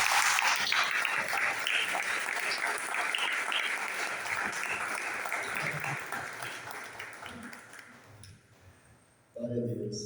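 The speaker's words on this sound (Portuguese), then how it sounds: "Uma forte salva de palmas para a gente." A church congregation at a Sunday service applauds loudly and steadily, a dense wash of hand claps that gradually thins and fades out before a voice comes in at the very end.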